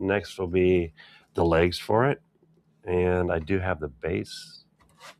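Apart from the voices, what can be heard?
No everyday noises stand out.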